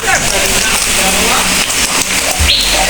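Heavy rain pouring on a holiday, a loud continuous broadband wash of rain on surfaces close by, with occasional brief knocks and a faint bird-like chirp near the end.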